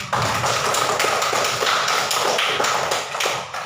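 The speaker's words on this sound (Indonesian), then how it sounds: "Bagus, tepuk tangan untuk semuanya." Schoolchildren clap their hands together in a classroom, a dense, steady patter of many small hand claps lasting a few seconds and fairly close.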